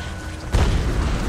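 A single heavy boom of helicopter cannon fire in the video game Tomb Raider bursts in after a quieter stretch, followed by a loud rumbling wash.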